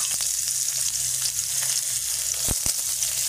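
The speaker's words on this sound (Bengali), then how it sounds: "কুচনো পেঁয়াজ" Chopped onion fries in fish-frying oil with black and white cumin, a close, continuous sizzle with a couple of sharp scraping knocks from stirring.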